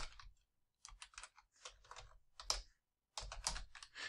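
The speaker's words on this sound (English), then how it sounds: "We could type in." Quick bursts of typing on a computer keyboard, close and faint, with crisp clustered key clicks broken by short pauses and no speech.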